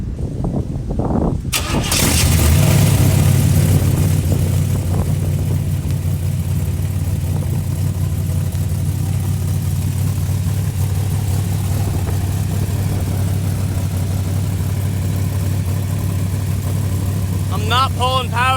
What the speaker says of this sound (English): we're going to go for first startup with the new brake booster hooked up